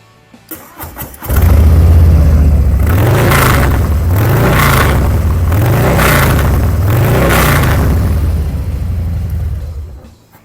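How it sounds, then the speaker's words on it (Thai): A 2022 Harley-Davidson Softail Standard 107 Clubstyle with a loud TBR exhaust starts up and settles into a deep, lumpy idle, then revs in four swelling blips before dropping back and cutting off near the end. It is close, loud and heard alone. "ไปฟังเสียงท่อลั่น ๆ ของ t b r กันไป"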